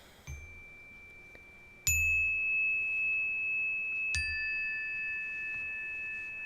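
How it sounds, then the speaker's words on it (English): A chime is struck three times with pauses between, each strike ringing out with clear, sustained metallic tones that overlap and slowly fade in a quiet room. "maybe I'll play the chime to"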